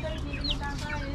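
Chickens with spotted, brightly coloured feathers cluck and call as they are fed scattered rice outdoors, a steady dense chorus of short fowl sounds with occasional higher squawks throughout.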